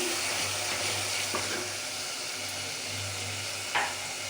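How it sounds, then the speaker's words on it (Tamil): A thick tamarind curry gravy with elephant yam sautés in a pan, keeping up a constant sizzling hiss with a low hum underneath and a few light stirring knocks. "இப்போ நல்லா வதங்கி ஒரு குழு குழுப்பாக வந்துட்டு பார்த்தாலே தெரியும்"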